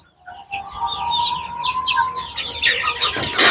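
Desi chickens on a rooftop farm, clucking and calling in a busy overlapping flock, with a sustained crow-like call early on, close and lively with no talk.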